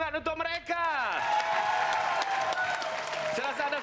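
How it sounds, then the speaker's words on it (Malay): A studio audience on a Malaysian game show applauds two contestants, the steady clapping swelling and holding with some cheering. A host's voice is heard at first, alongside a rising musical sting. "Tepukan semangat untuk mereka."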